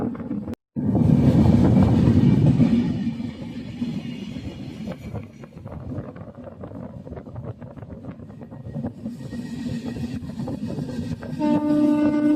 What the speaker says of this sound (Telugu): ట్రైన్ అయితే 120 పట్టుకున్నాడు స్పీడు, దుమ్ము దులిపేసుకుంటూ వెళ్ళిపోతున్నాడు ప్రజెంట్.